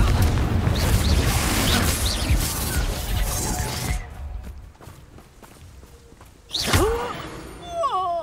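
A fiery Confringo spell blast in the Hogwarts Legacy video game, a loud broadband burst of crackling explosive noise that fades into quieter rumble, followed by another sharp impact near the end.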